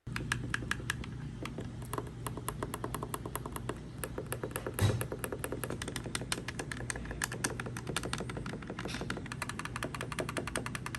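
Face buttons on a RiotPWR RR1852 wired controller clicked in rapid repeated bursts, crisp tactile taps close to the mic over a faint hum, with no voices.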